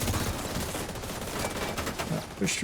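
Video game gunfire: dense continuous bursts of automatic shots during a firefight, loud and steady throughout, with a voice briefly heard over it.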